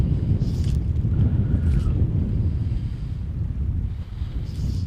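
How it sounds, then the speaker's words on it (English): Strong wind buffeting the microphone outdoors while fly fishing, a continuous loud low rumble with gusts swelling and easing throughout. "that wind just pushed me right back around"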